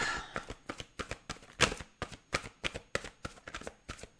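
Tarot cards are shuffled in a steady run of crisp riffling bursts, roughly two per second, close to the microphone with no talking over them.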